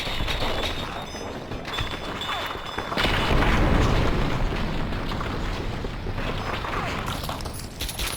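A grenade explodes in Fallout 3's wasteland, a heavy, loud boom that swells and rumbles on after a stretch of noisy in-game background.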